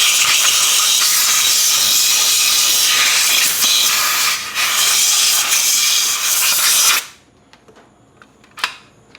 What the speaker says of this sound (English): And then I take the air compressor and I blow this out